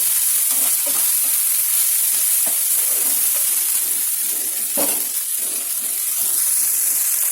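Ginger garlic paste and salt are stirred in a hot pan for ridge gourd fry, making a loud, constant hiss with repeated scraping strokes of a spoon throughout.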